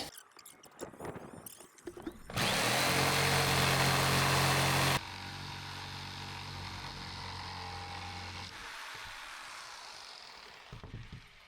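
Power tool cutting a plywood subfloor template for a camper van floating floor, a loud harsh burst of about three seconds followed by a lower, steadier whine, with no talking.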